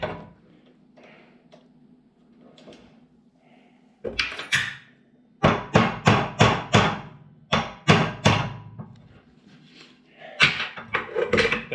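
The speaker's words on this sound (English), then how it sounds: "Big hammer." Loud blows from a big hammer ring out in quick clusters of several strikes while fitting a pickeroon handle, separated by quieter stretches with faint background noise.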